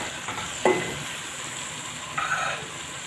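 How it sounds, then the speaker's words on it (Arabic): Diced carrots are stirred with onions in a sauté pan, giving a soft continuous sizzle with two distinct scraping stirs, one early and one near the end. "من بعد ما ضفنا البصل نضيف الجزر اللي مقطع الى مكعبات. ونحركو طبيعي الحال."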